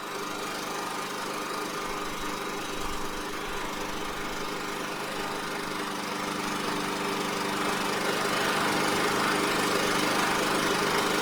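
A Champion 3400 portable generator (model 100261) idles steadily, its engine drone loud and close with constant vibration and no break in the running sound across the whole stretch.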